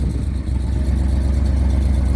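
A car that had sat parked for years idles with its exhaust running, a steady low rumbling drone heard up close and continuous, with no voices.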